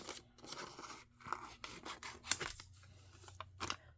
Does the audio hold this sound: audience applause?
no